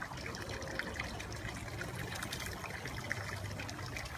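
Steady low water trickle from an irrigation bubbler at the base of a fruit tree, a continuous soft gurgling flow heard close and alone.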